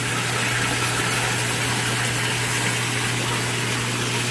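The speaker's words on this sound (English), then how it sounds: "And then here is my external pump to my sump tank." An external pump feeding an aquaponics sump tank, a constant close mechanical hum with a strong low drone and broad hiss that stays even throughout.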